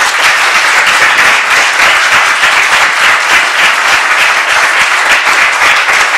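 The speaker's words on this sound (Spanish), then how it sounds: "un aplauso para José Manuel" A crowd applauds José Manuel Capmany after congratulations on his Jaume I research prize, a loud, dense and sustained round of clapping from many hands with no talk over it.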